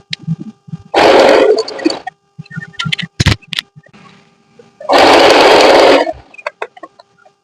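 A sewing machine stitches a fall onto a saree in two loud, sustained runs of whirring stitching, separated and followed by small clicks and handling noises.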